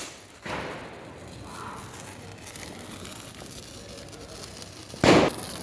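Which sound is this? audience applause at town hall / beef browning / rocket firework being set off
rocket firework being set off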